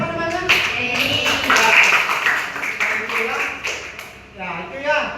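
Children in a classroom clap for a classmate, a short burst of scattered applause mixed with chatter and voices that fades toward the end.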